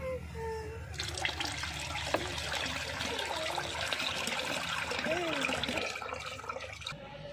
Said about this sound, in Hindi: अभी बाकी का जो दूध है हम इसमें डाल देंगे।